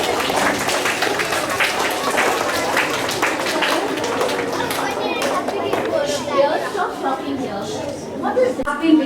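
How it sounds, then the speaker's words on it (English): Applause from an audience at a school assembly, a steady wash of many hands clapping mixed with crowd chatter and children's voices, sustained throughout and close. "So give her a big round of applause for participating in the competition."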